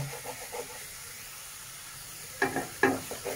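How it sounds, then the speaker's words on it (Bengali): Onions sizzle quietly in a pan for a bhola fish curry, with a soft steady hiss, punctuated by a few louder bursts of stirring and scraping near the end. "পেঁয়াজটাকে সময় দিতে হবে ভাজার জন্য"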